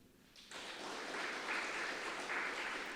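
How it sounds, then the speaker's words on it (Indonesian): A church congregation breaks into applause for God, the clapping starting suddenly after a brief quiet moment and continuing as a soft, steady, somewhat distant patter. "Tepuk tangan bagi Tuhan."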